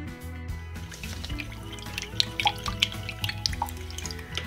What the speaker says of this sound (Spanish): En nuestra media taza de agua vamos a poner a hidratar nuestra grenetina.